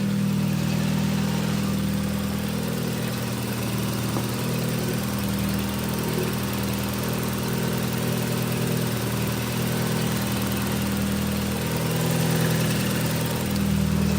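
Car engine idling steadily in a garage with an oil leak: a low, even rumble with a faint rhythmic pulse, close and constant with no talk.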